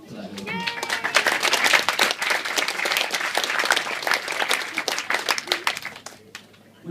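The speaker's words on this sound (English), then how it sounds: "So another round of applause to them for that little group." Wedding guests break into a warm round of applause at a reception, many hands clapping densely for several seconds before it thins out, with a voice heard at the start.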